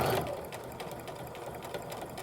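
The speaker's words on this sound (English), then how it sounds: "I've switched to my 1/4 inch foot and stitch for this section" Sewing machine fitted with a quarter-inch foot stitching and reinforcing seams on a zip pouch, a steady continuous mechanical whir running close and clear throughout with no talk.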